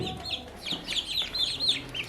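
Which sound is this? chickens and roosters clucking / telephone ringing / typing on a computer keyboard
chickens and roosters clucking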